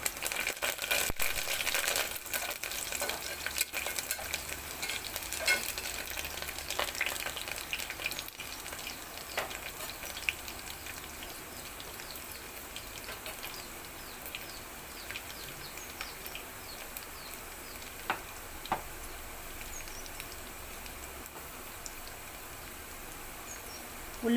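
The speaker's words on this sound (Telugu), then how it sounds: "ఉల్లిపాయలు ఇలా ఫ్రై అవుతున్నాయి కదండి" Onions and curry leaves fry in hot oil for a potato chana curry, giving a continuous close crackling sizzle with scattered sharp pops, gradually settling slightly quieter over time, with no voices.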